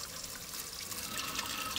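Water from a garden hose rushes steadily through a small homemade hydroelectric turbine driving an LED, a continuous hissing splash that holds even and fairly close for the whole stretch.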